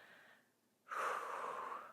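Deep breathing during an overhead stick mobility stretch: a soft breath, a brief pause, then a strong, long exhale rushing close to the mic.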